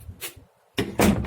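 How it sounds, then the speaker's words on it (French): An interior door swings shut, its latch clicking into the strike as the door closes during handle installation; two close, sharp knocks with a brief pause between. "entre et ça ferme la porte."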